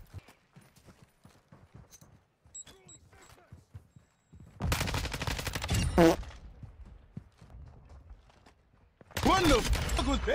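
Bursts of Lachmann 5.56 assault rifle fire in Modern Warfare 2, two loud sustained volleys separated by quieter stretches, with faint footsteps and ambient game sounds before the first burst.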